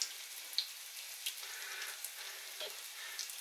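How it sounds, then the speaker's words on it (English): Corned beef hash cakes coated in egg and breadcrumbs fry in a pan over medium heat, giving a steady, soft crackling sizzle with small pops scattered throughout. "you want to fry those on medium heat"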